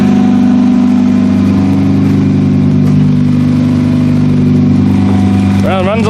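Derby car engine idling steadily with its fuel pump switched off, a continuous loud mid-pitched running hum throughout, with a brief voice near the end.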